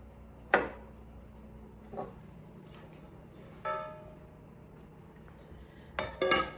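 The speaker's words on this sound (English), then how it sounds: "You basically whack the clove of garlic so you can peel it." A kitchen knife whacking a garlic clove on a cutting board, a few separate sharp knocks spaced apart, then a quick cluster of chopping strikes at the end, close and fairly quiet.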